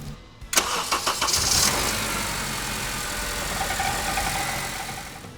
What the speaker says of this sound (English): Now we're just going to start it up one last time